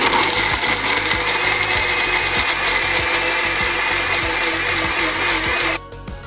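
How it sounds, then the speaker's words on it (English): A powerful high-speed blender whirs loudly and steadily as it purées soaked cashews into a vegan cashew cream, with rhythmic thumps as the mix churns, then it cuts off abruptly near the end. "a very powerful, high-speed blender"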